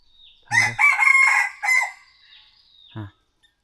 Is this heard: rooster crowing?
yes